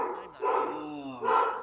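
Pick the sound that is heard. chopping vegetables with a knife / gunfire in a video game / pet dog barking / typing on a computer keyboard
pet dog barking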